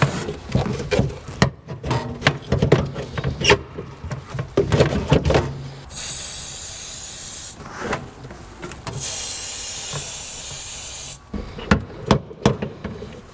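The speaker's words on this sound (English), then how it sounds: "I'm going to hit the inside of that rubber with a little bit of silicone spray" Silicone spray hisses onto a rubber seal during a Fox body Fairmont fuel tank job, two sustained bursts of several seconds each, following a run of clicks and knocks from handling parts.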